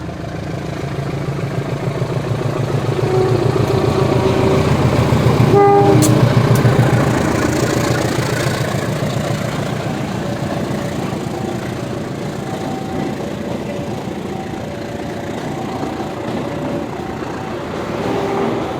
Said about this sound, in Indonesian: Ini keretanya persiapan berangkat teman-teman.